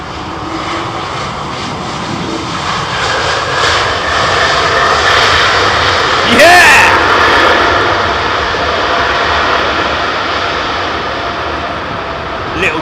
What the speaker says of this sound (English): Listen to that going out. Listen to that. Oh, it sounds like a 350.